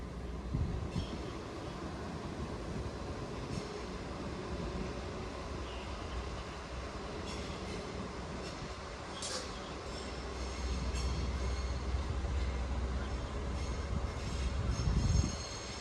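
A train departs Warrington Bank Quay station bound for Holyhead. A continuous rolling rumble carries faint wheel squeals and clicks, and it swells louder toward the end.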